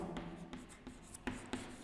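Chalk or marker scratching on a board during a maths lesson on sequences and series, faint and close, in short separate strokes with small taps, and nobody speaking.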